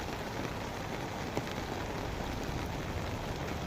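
Steady rain falls on flooded roads, a dense, even hiss of drops that carries on without pause and with no voices over it.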